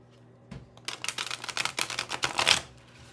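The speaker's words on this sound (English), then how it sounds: "I need to do a riffle shuffle." Stiff, thick tarot cards being riffle shuffled: a soft tap, then a dense run of quick flicking riffles for about two seconds, close and moderately loud, ending in a sharp final burst with no talk.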